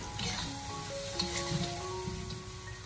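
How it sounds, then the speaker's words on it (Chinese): Ginger chunks, star anise and dried tangerine peel are stir-fried in a wok, giving a soft, steady sizzle with light stirring movement, fairly quiet and without talk. "继续的开火给它不停的翻炒，把姜块和大料给它炒出香味"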